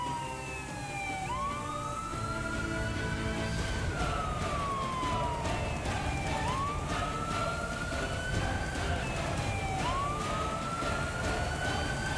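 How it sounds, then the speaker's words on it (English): Wailing emergency sirens from fire engines and ambulances arriving at an incident scene, rising and falling in repeated sweeping cycles, fairly distant over a steady traffic rumble. "fire engines and ambulances arrived at the scene"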